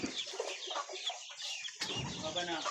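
A chick cheeps in high, repeated peeps close by, mixed with the clucking of farm hens, while people talk quietly nearby.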